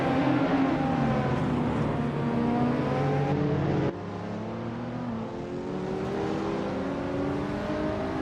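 Several race cars, including a 2016 Porsche 718 Boxster S, launching at the start of a race at Zandvoort in a racing game, engines revving and rising in overlapping pitch sweeps, loud and close throughout.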